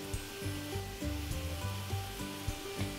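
Cooked rice is stirred into masoor and capsicum masala in a hot pan, with a steady close sizzle and repeated scraping strokes of the spoon, all under a tonal background melody.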